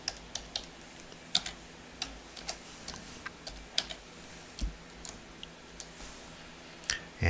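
Street address being typed on a computer keyboard, a steady run of crisp, close keystroke clicks with irregular short pauses, quiet room, no voices.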